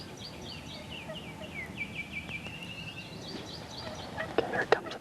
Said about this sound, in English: here comes a big gobbler right here, right in front of me